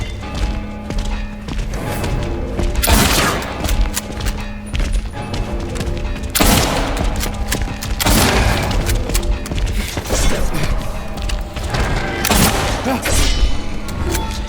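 Heavy rifle shots in the Silent Hill 2 remake's final fight against two Pyramid Heads, loud booming reports spaced several seconds apart over a dense rumbling game soundscape.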